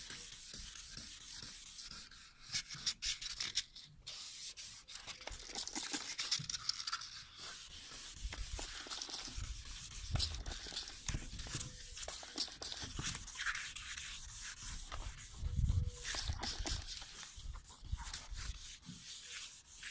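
Car headlight lens being wet-sanded by hand with sandpaper, a close, rhythmic rasping rub in repeated back-and-forth strokes with brief pauses between passes.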